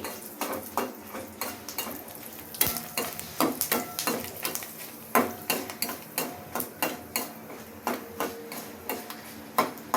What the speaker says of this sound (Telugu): వేచి ఇలాగ ఎర్రగా వేయించుకోవాలండి.